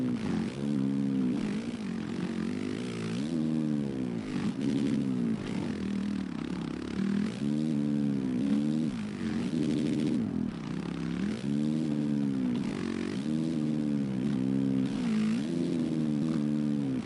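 A motorcycle ridden hard around a track held in third gear, its engine loud and close, rising and falling in repeated revving sweeps as it accelerates and backs off through the corners, with no talk.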